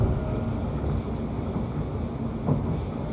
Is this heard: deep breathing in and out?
no